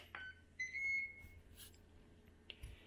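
A Ninja Foodi air fryer pressure cooker gives a short electronic beep as its timer button is pressed, a thin tone under a second amid quiet kitchen background, followed by faint clicks.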